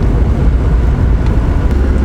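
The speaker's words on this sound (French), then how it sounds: "J'entends le moteur, j'entends la boîte." Mercedes-Benz W123 240D diesel engine and gearbox heard from inside the poorly insulated cabin while driving, a loud, steady low drone with constant road rumble.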